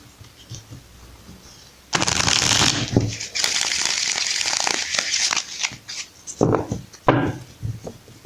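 Tarot cards being shuffled close up, crisp riffling bursts and sliding rubs in several bouts with short pauses between, loud and near.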